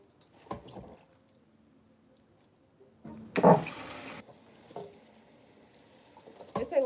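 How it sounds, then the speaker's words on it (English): Collard greens being washed and scrubbed together by hand in a sink of water, giving brief splashes and sloshing bursts, one louder surge of rushing water in the middle, with quiet pauses between. "You gotta wash your greens."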